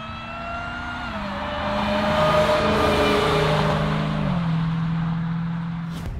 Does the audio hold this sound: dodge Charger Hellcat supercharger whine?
yes